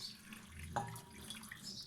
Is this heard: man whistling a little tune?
no